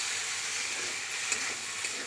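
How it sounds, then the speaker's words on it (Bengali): Chili paste and garlic stir-fried in a pan, a dense, continuous bright sizzle heard up close, with a couple of faint stirring knocks. "লঙ্কা বাটা আর হচ্ছে রসুন দিয়ে নাড়াচাড়া হচ্ছে"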